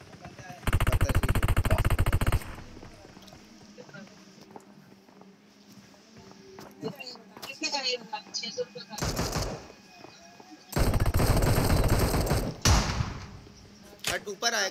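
Gunfire in the mobile shooter BGMI: several loud, rapid automatic bursts spread across the clip, with quieter game sounds and talk between them.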